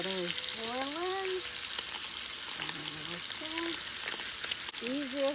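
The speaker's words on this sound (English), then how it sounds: "The water is boiling." Water boiling in a pot: a steady bubbling, sizzling hiss fills the clip continuously, with a voice speaking intermittently over it.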